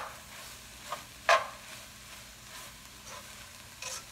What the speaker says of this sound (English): Give it a quick mix